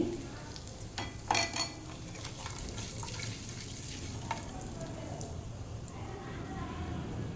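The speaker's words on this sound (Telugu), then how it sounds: "వీటిని దోరగా వేయించుకోవాలి" Ingredients frying in a pan for a South Indian curd rice tempering with asafoetida, a soft steady sizzle with a few sharp clatters early on, heard under a speaking voice.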